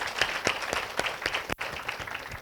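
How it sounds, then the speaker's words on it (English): An audience at an indoor session claps in a slow, rhythmic beat of about a dozen sharp, moderately loud strikes. "Let's clap for Kshama"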